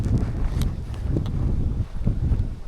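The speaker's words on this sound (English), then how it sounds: "it still has stayed windy all day" Wind gusting on the Appalachian Trail near Big Bald, a low rumbling buffet against the microphone with faint rustling, steady throughout and without speech.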